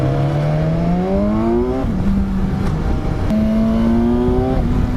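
A motorcycle engine revs up in rising pulls, dropping briefly between throttle blips and climbing again, loud and close with a rough exhaust note throughout.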